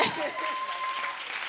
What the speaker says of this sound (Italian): E davvero ancora un applauso alle Kikis.